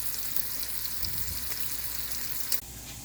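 Bacon fries in a pan on medium heat with a steady, dense crackling sizzle. It is close and continuous, with a brief clatter near the end and no voices.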